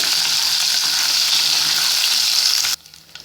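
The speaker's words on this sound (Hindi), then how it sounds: "और रेस्टोरेंट्स और होटल्स वगैरह में भी इसी तरह दाल को तड़का लगाया जाता है।" Loud, steady sizzling of garlic tempering in hot oil for moong dal tadka, cutting off abruptly near the end.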